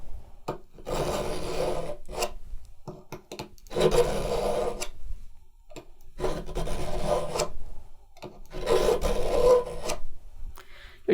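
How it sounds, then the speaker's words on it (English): A Hori Hori garden knife blade rasps as it is dragged repeatedly through a multi-tool sharpener, producing rhythmic gritty scraping strokes, close and fairly loud with short gaps between passes. "You're just dragging it through the sharpener."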